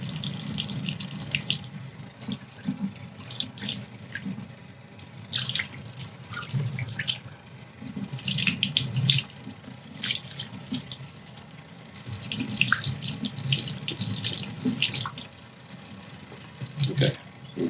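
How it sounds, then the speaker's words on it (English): Warm water running from a tap into a sink, a steady close splashing stream that shifts as things move under it, with no talking. "Okay, so put warm water going there."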